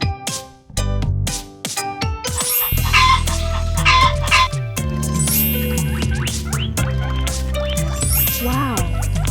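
Chicken clucking and rooster-like calls in a kids' farm animal sound-and-feed sequence, loud and close, mixed with bright jingling music and chimes throughout.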